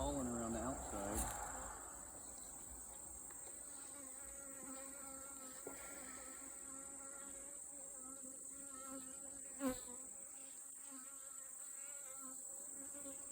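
Honey bees buzz around an open beehive during a frame inspection, a soft, steady drone of many insects with occasional louder passes close by, faint and continuous throughout.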